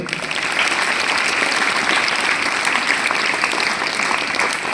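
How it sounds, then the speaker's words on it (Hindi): Students at a Jawahar Navodaya Vidyalaya school event for National Sports Day applaud together, a dense steady wash of clapping that holds evenly and loudly throughout, with no talk over it. "ताली बजाओ भाई"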